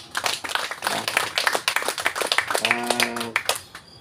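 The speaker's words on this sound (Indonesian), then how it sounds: "Tepuk tangan buat Tuhan Yesus" Audience clapping at an Indonesian church community gathering, a few seconds of uneven hand claps with a brief voice or tone rising in the middle.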